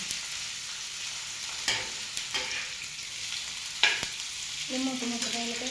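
Food being dry-roasted in a pan and stirred, a steady sizzle with a few scraping strokes of the spoon, close by, with no talk; a faint tonal clatter enters near the end.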